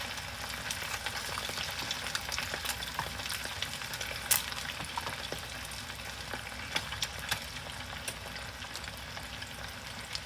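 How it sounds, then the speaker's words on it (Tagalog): Chicken pieces for karaage deep frying in hot oil, a steady dense crackling sizzle with scattered sharp pops, close and continuous throughout. "Deep fry lang ho siya."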